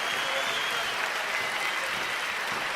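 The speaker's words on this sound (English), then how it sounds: "Let me give her a round of applause." A round of applause from an audience, continuous dense clapping held at an even level for a few seconds, moderately distant and unbroken by any voice.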